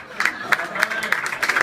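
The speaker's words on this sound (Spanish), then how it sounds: "Así que un aplauso." Applause from an audience at a basketball trophy presentation, rhythmic clapping with some cheering, a voice speaking faintly over it.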